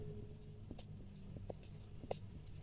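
Marker or chalk strokes scratching across a classroom board during a third-grade maths lesson, a few short scrapes and taps spaced over a quiet background.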